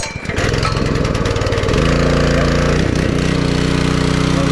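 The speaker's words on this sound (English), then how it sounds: "Okay, I'm going to give a pull start." A Simpson MegaShot 3400 PSI gas pressure washer is pull-started: a brief rattle of the pull, then the engine catches and settles into a loud, steady, close running drone.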